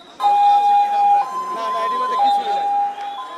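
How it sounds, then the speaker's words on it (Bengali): A loud, close ambulance siren wailing between two steady tones, sustained throughout. "একদিকে অ্যাম্বুলেন্সের পর অ্যাম্বুলেন্স ছুটে চলেছে বিভিন্ন হাসপাতালে।"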